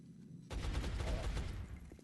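A gunshot from the video game XCOM Enemy Within cracks out suddenly and loudly, followed by a dense rumbling burst that trails off over about a second and a half.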